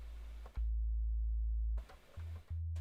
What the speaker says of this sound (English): I am playing a sine wave